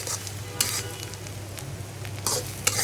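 Dried fish (shutki) fries with onions in a pan, giving a soft, steady sizzle broken by a few short scraping bursts as the mix is stirred. The sound is close and quiet, with no one talking.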